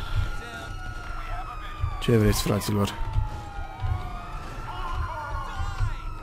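Police sirens wail behind a player being chased in Grand Theft Auto 5, a steady rising and falling tone running through the whole stretch beneath game noise, with someone speaking briefly over it.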